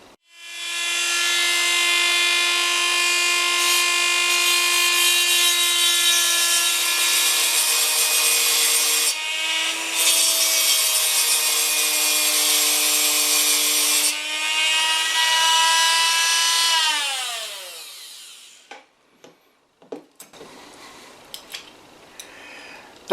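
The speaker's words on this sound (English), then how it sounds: "I'm going to use the little ball burring tool on my Dremel just to flatten down that" A Dremel rotary tool with a small ball burr grinds a dimple into the tip of a rivet on a Dinky Toys Jaguar Mk X 142 model, a steady high whine for about seventeen seconds that winds down, then scattered small clicks and handling noises.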